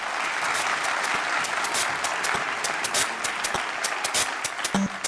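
Audience at a children's costume contest, with a young boy dressed as Super Mario, applauds in a sustained, lively round of clapping with sharp individual claps standing out, and no talk over it.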